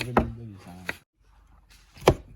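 A knife cuts beans into small pieces for homemade fried rice, with a few sharp, spaced chops on a board while a voice talks alongside.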